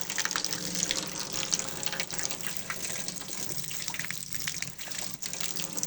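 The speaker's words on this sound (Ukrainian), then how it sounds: "Бачите, водичка лється." Water from the Koryto spring spills and splashes in a continuous, moderately faint rush, like a steady stream pouring from a spout outdoors, with no voices over it.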